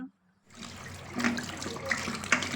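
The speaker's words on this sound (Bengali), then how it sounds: "ভালো করে মাংসটা ধুয়ে নিচ্ছি, সব কিছু ভালো করে ধুয়ে নিচ্ছি।" Tap water runs steadily into a kitchen sink while mutton pieces are washed one by one for a whole-garlic mutton curry, starting after a brief silence and continuing fairly close with splashy bursts.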